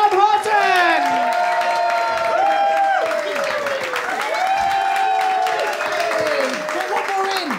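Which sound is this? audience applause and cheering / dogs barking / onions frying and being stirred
audience applause and cheering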